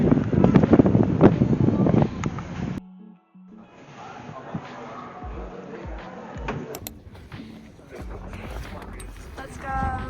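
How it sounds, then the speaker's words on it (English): Gusty wind on a ski trip buffets the microphone with low rumbling bursts, broken by a brief dropout, with faint background sounds and voices in the distance. "So windy."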